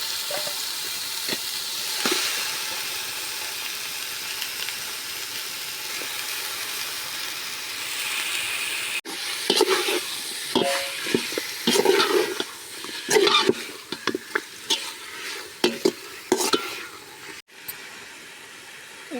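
One kilogram of chicken sizzling and frying in a hot pan for biryani, a steady crackling hiss with clattering stirs and scrapes growing busier partway through.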